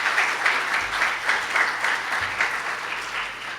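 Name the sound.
audience applause in church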